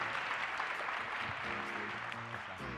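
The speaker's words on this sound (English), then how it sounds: "Let's give Sam a big round of applause" Applause from a live podcast audience rolls on at a moderate, steady level, with a faint tonal hum or music bed running underneath the crowd's clapping.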